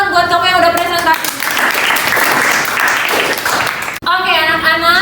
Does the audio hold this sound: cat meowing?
no